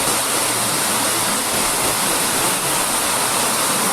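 Strong, gusty storm wind in East Java roars as a dense, continuous broadband rush, loud and close, with no pauses or distinct gusts standing out over the steady howl.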